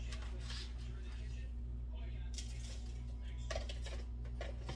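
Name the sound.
pork chop pieces placed into a Tupperware stack cooker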